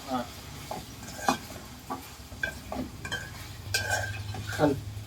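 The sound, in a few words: eggplant curry being stirred and sizzling in a pan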